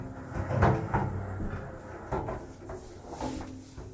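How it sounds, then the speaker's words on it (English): A sliding glass shower door rolls along its track in a series of short scraping, rumbling glides broken by a few sharp knocks as it stops and starts, close by with no talking. "Now the door is back on its track and moving freely."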